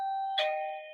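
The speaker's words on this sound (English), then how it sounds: "That's the doorbell." A two-note ding-dong doorbell chimes clearly indoors, a bright tone followed by a lower ringing note that decays gently, with no talking over it.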